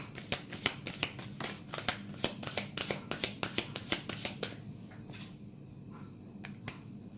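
Tarot cards shuffled by hand before a last card is drawn: a fast run of crisp, close riffling clicks that thins into a few scattered taps, with no talking.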